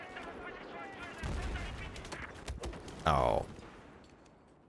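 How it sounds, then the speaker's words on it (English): M60 machine gun fire in Battlefield 4, a series of sharp shots and bursts with a louder burst near the middle, mixed with game noise and a brief spoken exclamation. "We got killed by an M60 of all things."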